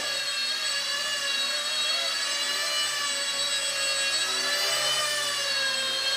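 Esky F150 V2 Airwolf RC helicopter in flight, giving off a steady high-pitched electric motor and rotor whine that holds evenly throughout with no talking.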